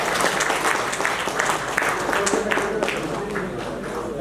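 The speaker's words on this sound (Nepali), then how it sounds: "ताली बजाइ" Audience applause at a rice mill association annual general meeting in Chitwan, a steady dense clapping from a crowd filling the room throughout, with a voice talking faintly underneath.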